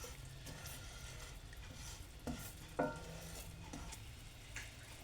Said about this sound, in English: I'm just moving the sugar around to help distribute the heat.